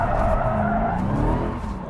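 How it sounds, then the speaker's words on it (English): A 2021 Dodge Charger SRT Hellcat Redeye Widebody doing donuts, tires skidding with a continuous rough squeal over a deep, droning engine roar, loud and close for the whole stretch. "I've decided I'm going to do some donuts,"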